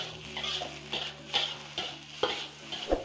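Fried rice stirred in a pan over high heat, with a steady sizzle under repeated metal scrapes and clinks of the utensil against the pan at an uneven rhythm, close up and with no talking.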